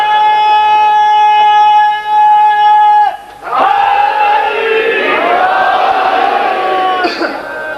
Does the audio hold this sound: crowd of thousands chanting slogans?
yes